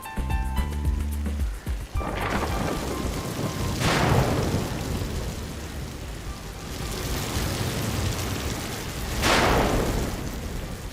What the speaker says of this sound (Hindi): लगता है आज ये बारिश बंद नहीं होने वाली है।